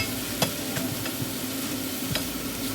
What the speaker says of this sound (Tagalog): So ihalo nyo lang yan.